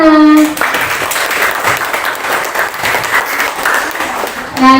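Clapping fills a primary school farewell ceremony for sixth graders, a loud continuous crowd of hands bracketed by brief voices at the start and end.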